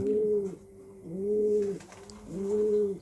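A racing pigeon coos close by in three drawn-out, rolling calls with brief pauses between them, clear against a quiet background.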